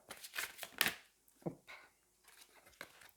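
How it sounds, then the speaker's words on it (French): A deck of oracle cards is shuffled up close in a series of quick papery riffles and slides, irregular and fairly soft. "J'essaye de bien mélanger mon jeu puisque je l'ai utilisé dernièrement."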